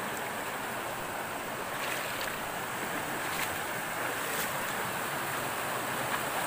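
Strong, deep current of water rushing through a canal high on a mountain, a loud, steady broadband roar with no pauses or breaks throughout.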